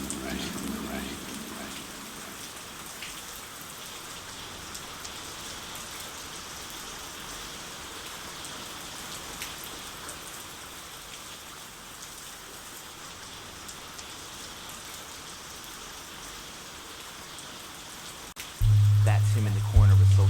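Steady rain falls and patters on surfaces in a continuous dense hiss for a long stretch, with a faint low rumble at the start and a sudden louder musical passage near the end.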